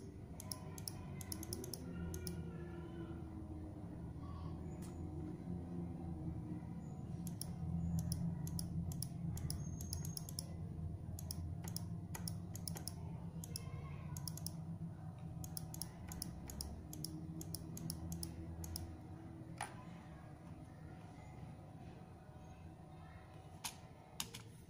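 Rapid keyboard typing and mouse clicks in irregular bursts on a computer, sitting steadily under a low background hum throughout.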